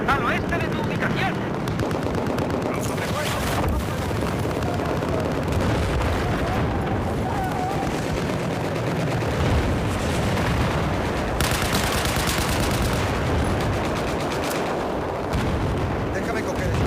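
Battlefield 4 gunfire on the Shanghai map, with dense, continuous bursts of machine gun fire and heavy booms layered over a loud battlefield din for the whole stretch, with occasional voice chatter in the mix.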